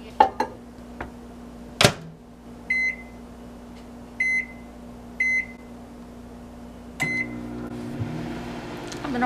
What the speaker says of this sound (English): So next we have to put this in the microwave